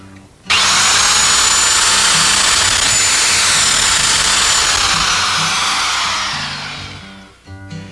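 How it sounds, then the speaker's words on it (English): A power drill with a 1/2-inch bit bores a hole for a pet door, a loud steady whine starting abruptly, holding for about six seconds, then winding down as the motor slows. "Use the drill and 1/2-inch bit to drill 4 corner holes on the inside of the template line."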